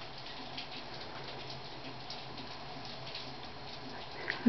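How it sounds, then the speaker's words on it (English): Steady rain falls outside with a continuous soft hiss and patter, with no voices. "I think it's raining."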